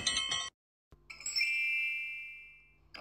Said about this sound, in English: click on the ringing bell